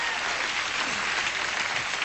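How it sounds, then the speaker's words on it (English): A crowd applauds steadily, dense clapping filling the whole moment at an even, fairly loud level with no voices. "fucking round of applause for Jonathan"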